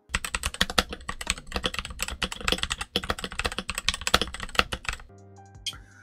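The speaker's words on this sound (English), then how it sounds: "I went ahead and did a sound test with the lubed switches and now with the switch pads added" Fast, steady typing on a Redragon mechanical keyboard fitted with lubed switches and switch pads, a close, dense run of muted clacks for about five seconds before it stops, with no voices over it.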